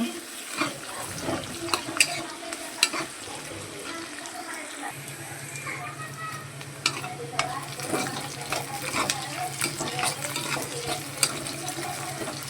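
Ivy gourd curry frying in a pan, giving a soft, continuous sizzle with occasional stirring scrapes and clinks, while a person talks over it at close range.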